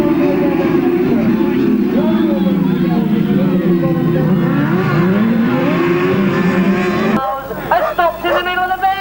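Grasstrack racing motorcycles roar into a turn, a loud, wavering engine drone that rises and falls, with a commentator talking over it throughout.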